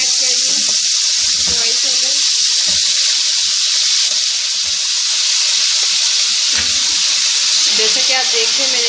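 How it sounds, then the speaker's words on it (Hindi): Chicken pieces fry loudly in hot oil for a chicken korma, a dense continuous sizzle and hiss up close, with occasional low knocks of stirring and no talk. "मैंने चिकन ऐड कर दिया अपने ऑयल के अंदर। अब हम इस चिकन को अच्छी तरह भूनेंगे।"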